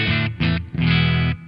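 An electric guitar played through a Joyo British Sound pedal with light distortion and a cabinet simulator rings out in three chords or notes, two short and one sustained, loud and close with no talk.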